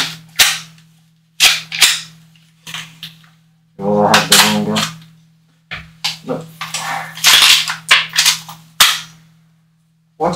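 Sharp gunshots ring out in a live-streamed game, aimed at Pikachu, as repeated loud cracks with some rapid bursts and a steady low hum underneath.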